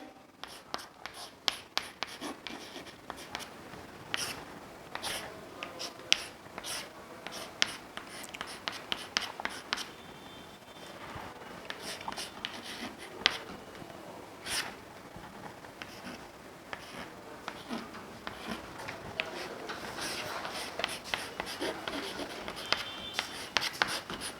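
Chalk or marker writing on a board in a chemistry class, a steady run of short scratchy strokes and taps continuing throughout at close range, with no talking.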